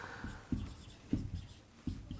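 A pen writes by hand on paper, with three faint, quick scratching strokes close by in a quiet setting.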